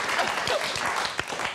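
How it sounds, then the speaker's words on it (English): A television studio audience applauds steadily, a close, even patter of many hands clapping across the whole moment with a faint voice underneath. "big round of applause"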